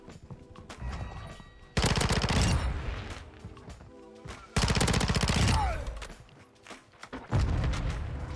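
Heavy gunfire and explosive blasts from a grenade launcher in Call of Duty Modern Warfare 2, arriving in two loud dense bursts with a third starting at the end, separated by quieter ambient battle noise.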